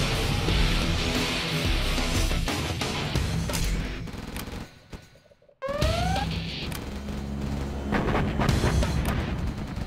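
Dense barrage of Scud Storm missile explosions and rumbling blasts in the strategy game Command & Conquer Generals, loud and continuous, briefly dropping out before a rising whistle and renewed heavy bombardment.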